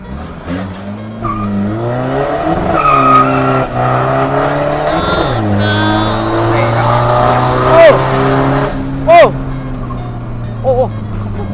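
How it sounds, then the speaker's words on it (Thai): An old Isuzu D-Max with a turbo diesel engine, big turbo and full remap revs repeatedly in loud rising and falling surges. Several engines rev together, with people talking and shouting throughout and some sharp whistling bursts. "มาเบิ้งพร้อมๆกันดีกว่าเฮา"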